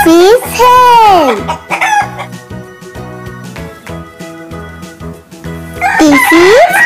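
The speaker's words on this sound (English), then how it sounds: "This is hen." A hen's fowl calls rise and fall in drawn-out, crowing-like sweeps, near and loud at the start and again at the end, with steady background music running underneath in a children's farm-animal lesson.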